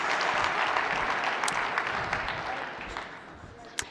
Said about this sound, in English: Everyone give Angela a big round of applause for stepping up.